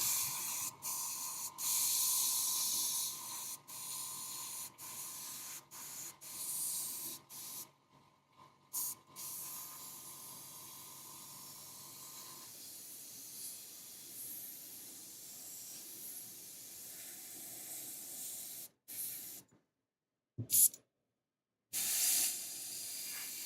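An airbrush sprays paint in a soft, steady hiss that cuts in and out with short pauses and a few sharp interruptions, close and quiet with no talking.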